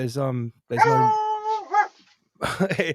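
A dog whimpers close to a microphone during a live stream, a drawn-out whiny cry between bursts of nearby talking.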